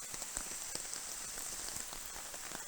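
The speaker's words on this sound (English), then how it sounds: "this is a bit of a downpour right now" Rain drumming on a tent at Algonquin Park in a downpour, a dense patter of drops with scattered sharper taps, steady throughout and heard alone.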